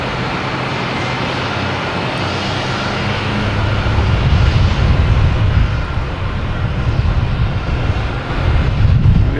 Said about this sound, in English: We get United Airlines here, heading to Newark.